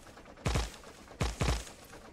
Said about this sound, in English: Tank machine gun is super strong.